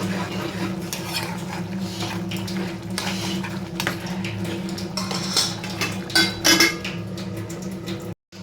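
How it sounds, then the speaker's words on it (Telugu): A spoon scrapes and clatters steadily against a metal pot while stirring mushroom curry after salt is added, continuous close scraping with a few louder knocks near the end. "కొంచెం వేసేసుకున్న తర్వాత ఇప్పుడు మళ్ళీ ఒక్కసారి అనేది కలిపేసుకుంటే"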